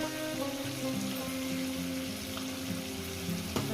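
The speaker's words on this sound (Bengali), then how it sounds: "চিকেনটাকে আমি ভেজে নিয়েছি এরপর দিয়ে দেবো মশলাটা" Fried chicken sizzles steadily in a pan of hot oil as spice paste is added for a chicken curry, a dense continuous crackle with a sharper splash near the end.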